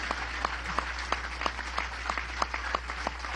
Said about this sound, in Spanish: Un aplauso al pueblo de Vargas y así al pueblo de Venezuela.